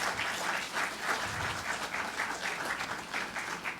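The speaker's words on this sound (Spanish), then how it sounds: "Un fuerte aplauso," A conference audience applauds for about four seconds, a dense and continuous clatter of many hands at a fairly even level, with no one talking over it.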